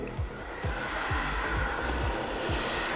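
Hair dryer with a concentrator nozzle blowing during a round brush salon blowout: a continuous loud, close airflow roar with faint regular brush strokes beneath it and no talk.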